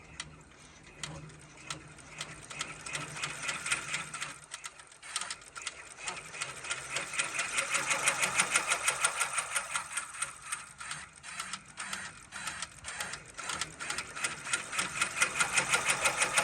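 An embroidery machine stitches a satin-stitch fitness logo with long jumps, sounding as a loud, rapid mechanical clatter of needle strokes that speeds and slows in repeated bursts, with a whirring motor underneath.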